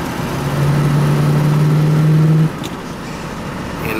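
A 1977 Cadillac Coupe De Ville with a 425 7.0L big block V8 revs loudly and close, holding a steady throttle note for about two seconds before dropping back to a lower idle.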